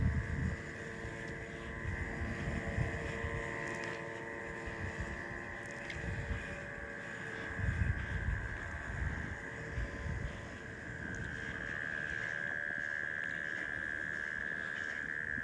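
A Husqvarna 450X robotic lawn mower cuts grass at night, giving off a low, continuous electric hum with a faint steady tone and gentle swells as it moves.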